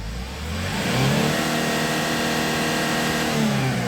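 A 2005 Porter freezer truck with a manual gearbox and diesel engine revs up and holds a steady, even drone for several seconds, loud and close, with no voices over it.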